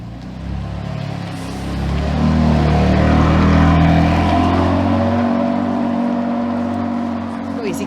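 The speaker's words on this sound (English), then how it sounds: "Noisy car. Noisy car." A loud car passes along a hillside street in a small town, its engine roar building to a peak mid-clip, then receding, with a voice briefly audible beneath it.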